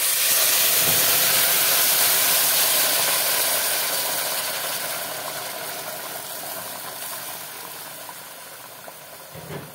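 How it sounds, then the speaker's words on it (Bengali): A loud, rushing hiss of hot water hitting frying rice in a pan for pulao, the bubbling sizzle slowly easing off over several seconds. "দিয়ে দেবো গরম জল"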